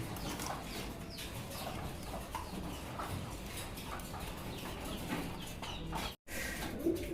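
Lahori fancy pigeons, an Iranian Lahori pair, coo and flutter close by amid a busy bird market's constant chatter of other birds and poultry clucking.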